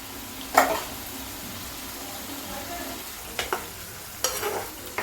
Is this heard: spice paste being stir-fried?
yes